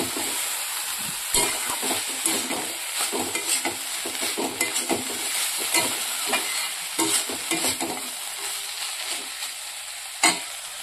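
Small fried fish chochchori with coriander leaves being stirred in a pan, rhythmic scraping strokes of a spatula over a constant sizzle, with an occasional sharp clack of metal.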